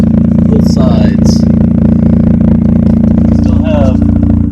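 Mazda RX8 with a muffler delete, a Y-pipe with 120-degree bends to twin tips, the stock catalytic converter and resonator, idling with a steady low drone close by, with brief higher chirps over it.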